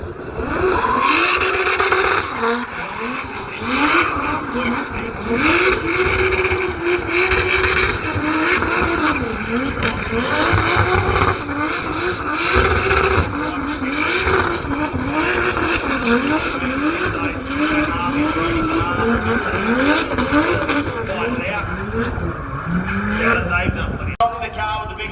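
Drift car with big steering lock and big horsepower at a drift festival, engine revving hard with wavering pitch and tyres skidding, loud and close throughout, with a commentator talking over it.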